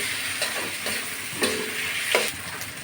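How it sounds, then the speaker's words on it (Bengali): Spice paste with salt and turmeric sautéed in a pan for a rohu fish do-pyaza, steady close sizzling broken by a few scraping stirs of the spatula. "মতো হলুদ দিয়ে দিচ্ছি মশলাটা ভালো করে কষিয়ে নিচ্ছি"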